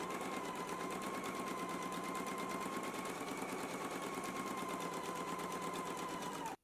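A sewing machine runs a reinforcing stitch along a skirt seam line with a faint, even, continuous stitching drone from start to finish, then cuts off sharply at the very end.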